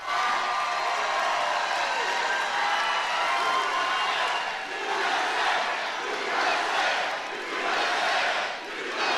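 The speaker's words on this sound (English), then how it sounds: "Yeah, listen to the crowd." A large crowd at a political rally cheers and roars continuously, the noise swelling in waves like chanting, heard from within the crowd.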